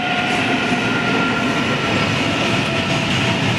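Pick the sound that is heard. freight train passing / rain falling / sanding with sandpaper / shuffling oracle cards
freight train passing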